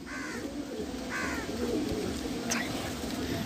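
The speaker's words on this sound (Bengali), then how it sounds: "ম্যাগনেট পায়রা দেখুন গ্রিন চোখের" A green-eyed magnet pigeon, a male, coos softly nearby in a loft, a few low murmuring calls over faint background noise.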